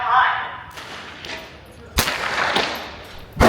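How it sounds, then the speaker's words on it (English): Gunfire at an outdoor shooting range: a couple of sharp, loud reports cut through the background, with people talking around them. "Shooting through a couple of mags"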